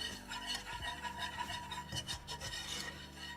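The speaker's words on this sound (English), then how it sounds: "Whisk them together well." Salt and half a teaspoon of mustard powder whisked together in a bowl for a make-ahead cheese sauce, giving a steady close scraping and rasping that runs without pause, with no voices.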